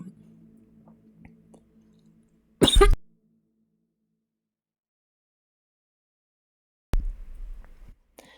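A single sharp cough bursts out close by at mid-clip, with a second rougher cough or throat noise near the end, over otherwise near silence.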